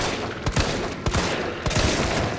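Gunfire in Resident Evil 3, a few sharp shots cracking out at intervals over a dense, noisy game backdrop, loud and close.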